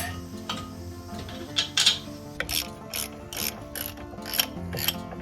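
A ratchet clicks steadily while tightening the front brake caliper bolts on a Toyota Sienna, a run of sharp, close metallic ticks in an irregular rhythm, loud and with no talk over it.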